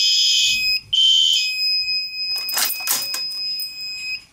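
A smoke detector alarm sounds during a test, giving loud piercing electronic beeps in two bursts, then a steady high tone continues under clattering handling noise.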